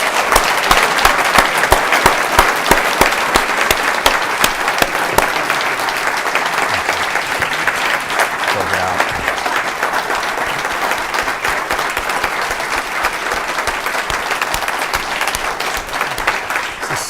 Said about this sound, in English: Sustained applause.